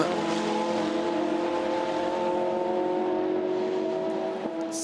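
Ferrari GTE Pro race car of Jules Gounon at the 24 Hours of Le Mans, a sustained high engine drone with steady harmonic tones holding at speed, fairly loud, dropping off briefly at the end.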